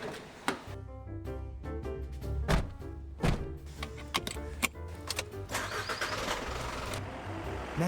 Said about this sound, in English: 31 garbage trucks all leaving all at once